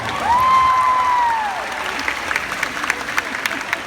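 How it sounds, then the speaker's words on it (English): An audience at a live question-and-answer event breaks into a round of applause. A rising whistle-like tone carries over the clapping at the start, then the applause continues as scattered, crackling claps. "Let's give her a round of applause."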